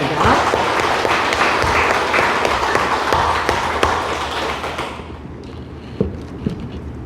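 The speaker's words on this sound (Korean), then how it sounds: "다시 한번 박수 보내겠습니다." Audience applause at a Won Buddhist temple service, dense and steady for about five seconds, then thinning to scattered claps as it fades.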